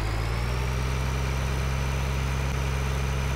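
A tractor engine strains under a heavy load in Farming Simulator 2013, a steady low droning hum holding evenly with no break.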